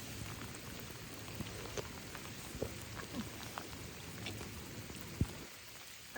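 Steady rain falls at a glacier lake in Alaska, a soft, even hiss of drops on surfaces with a few louder nearby splats, quiet and without speech.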